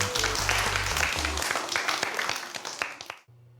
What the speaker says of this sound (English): Let's give yourselves a clap.